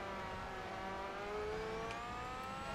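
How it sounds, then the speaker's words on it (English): Porsche 911 GT1 race car engine in Forza Motorsport, a sustained high revving whine with rising pitch, steady and moderately faint throughout with no talk. "Alright, I hear a Porsche behind me."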